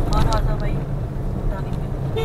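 A car horn on a rough, old stretch of the Mumbai–Goa highway between Lanja and Chiplun gives a couple of short toots near the start, over steady road and engine rumble from inside a moving vehicle.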